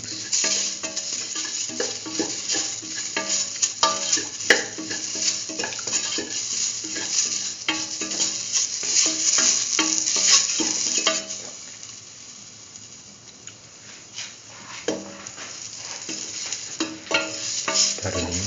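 Spice mixture for a curried mustard lentil stew with fenugreek leaves stirred in a frying pan, a steady scraping of spoon against metal with light sizzle and occasional clinks, continuous and close, quieting briefly midway before resuming.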